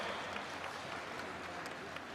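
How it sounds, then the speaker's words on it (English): A crowd at a cycling carnival applauds a race winner, a steady, fairly faint wash of clapping from a distance with no breaks. "Give him a round of applause."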